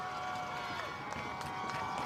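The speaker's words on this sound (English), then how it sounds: "You can hear this crowd for Riverton." Riverton home crowd at a high school football game, a broad steady roar from the stands in an overtime goal-line moment, with faint bursts of cheering rising through the din.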